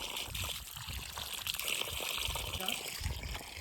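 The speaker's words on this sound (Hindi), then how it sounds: "देखो ना कितना प्यारा धारा बह रहा है" A mountain stream of drinking water near Chicham Bridge on a Spiti road trip, flowing with a steady hiss and gurgle, fairly faint, with wind and outdoor noise mixed in.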